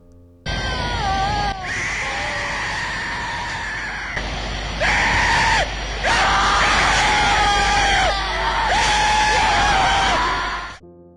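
Loud, sustained screaming and wailing recorded from mental asylum patients, several anguished cries rising and breaking over about ten seconds, close and harsh, with no words spoken.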